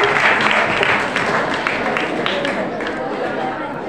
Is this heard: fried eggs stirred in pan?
no